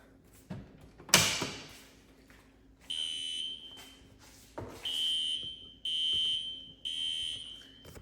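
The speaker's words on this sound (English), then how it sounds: "I got my system sensor Spectra Alert Classic horn strobe set on code 3" A System Sensor Spectra Alert Classic horn strobe sounds in a code 3 temporal pattern, three loud, piercing horn blasts in a row after some clicks and a bang from handling, close to the device.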